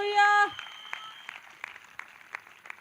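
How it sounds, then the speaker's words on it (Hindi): Congregation at a Sunday church service in Tajpur claps in thanks after a brief sung note, sharp claps falling in a steady, fairly even beat, moderately close and not dense. "जितनों को ये बात समझ में आ गई है वो ताली बजाकर धन्यवाद कर रहे हैं"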